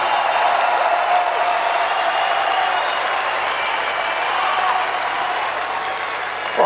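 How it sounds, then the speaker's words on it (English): Concert crowd at a show in Bakersfield's Centennial Garden Convention Center giving a long, steady roar of applause and cheering, dense and even throughout, heard from within the hall, with a brief bump of noise at the very end. "Give a fucking round of applause to all these fucking bands in this fucking bill"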